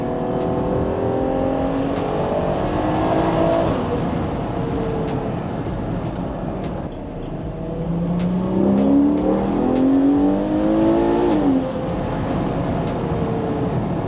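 A Ferrari Purosangue's engine roars with audible intake noise, rising and falling through revs in a continuous loud pull, heard from inside the car with no talking.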